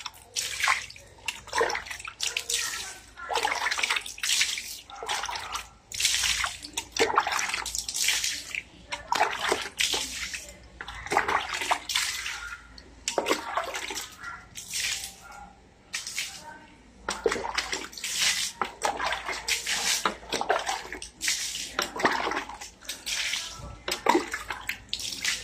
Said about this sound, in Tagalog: Buhos po tayo ulit hanggang sa luminis.